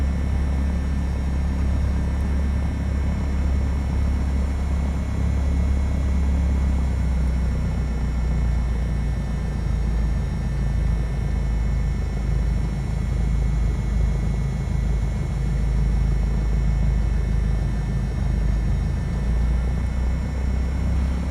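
A heavily loaded aircraft in the Prepar3D V4 flight simulator descends toward runway 12. Its engine drone is steady, loud and continuous throughout, with low rumble and no pauses.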